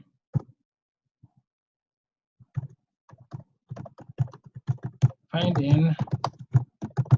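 Fingers tap a computer keyboard in sparse, uneven clicks that grow quicker and denser, and a person begins talking over the typing toward the end.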